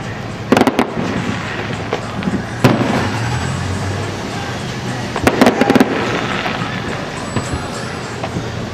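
Fireworks show at Mission Beach in the early 2000s, with sharp bursts and crackles at around 0.6, 2.7 and 5.3–5.8 seconds over a steady crowd and background rumble, heard at a moderate distance.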